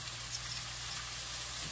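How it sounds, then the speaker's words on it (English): Eggplant fries in hot oil in a pan on a stovetop while making ratatouille, giving a steady, close, dense sizzling hiss that runs unbroken with no voices. "Ah, that's sizzling."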